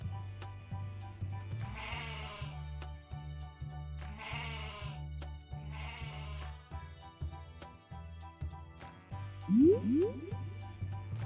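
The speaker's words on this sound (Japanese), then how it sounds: "答えは、ヤギだよ。" A goat bleats three times in wavering cries over a steady, repeating low musical backing, then gives a short rising call near the end.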